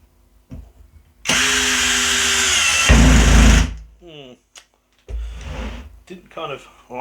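A Worx WX177.9 brushless switch driver in drill mode whirs loudly for about three seconds, rising in pitch before stopping, followed by clicks and handling noises.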